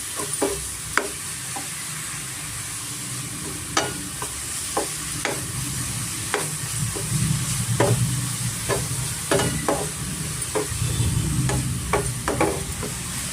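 Coconut and jaggery modak filling stirred in a pan over medium heat: a soft continuous sizzle under the scrape of a spoon, with a dozen or so sharp spoon taps against the pan at irregular intervals, close and clear.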